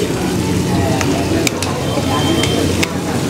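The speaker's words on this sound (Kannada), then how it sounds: "ಈಗ ಇದಕ್ಕೆ ಹಸಿ ಮೆಣಸಿನಕಾಯಿ ಮತ್ತು ಕರಿಬೇವಿನ ಸೊಪ್ಪು ಅಷ್ಟನ್ನು ಹಾಕ್ಕೊಂಡು" Green chillies and curry leaves sizzling in hot oil with cashews for a tempering: steady, dense frying hiss with a few light stirring clicks, close up.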